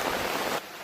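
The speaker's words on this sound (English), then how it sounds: "Like it's full on raining hard" Heavy rain falling hard, a dense, steady hiss of downpour that fills the moment closely before dropping abruptly to a softer wash.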